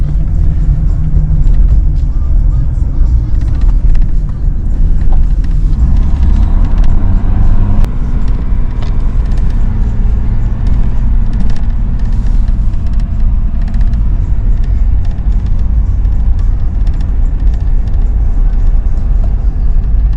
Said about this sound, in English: Wait for this car to come down.